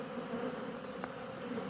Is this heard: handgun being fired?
no